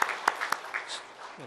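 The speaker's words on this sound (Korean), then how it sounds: "하나님께 영광의 박수를 돌리겠습니다" Congregation in a church service clapping briefly, a few sharp claps at the start followed by fading scattered sound, with a voice speaking over it.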